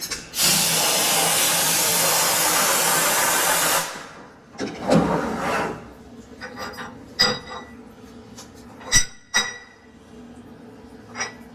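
A CNC machine running while machining 3-inch trailer lift blocks gives a loud, steady hissing roar for about four seconds, then scattered clanks and knocks.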